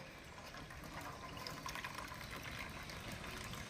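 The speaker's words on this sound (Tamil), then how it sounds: "தண்ணி வடியுது பாருங்கள்." Water from cooked rice drains through a rice-straining carrier, giving a steady, close, trickling and splashing rush that runs without a break and stays fairly quiet.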